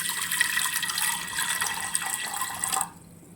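Water splashes and gurgles steadily into a pressure cooker on a home kitchen stove for close to three seconds, then stops abruptly, with no voices.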